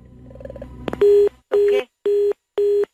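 A telephone call is placed on a radio show, with a few faint clicks of the line followed by four loud, evenly spaced electronic tones of the same pitch that pulse at a quick, regular pace.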